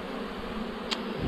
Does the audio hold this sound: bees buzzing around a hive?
yes